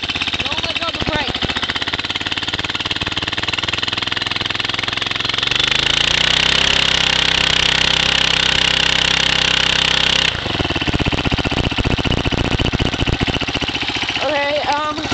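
A go-kart engine running just after a cold start, a loud, close, steady idle that rises in pitch as it revs for several seconds, then drops back to a rough idle.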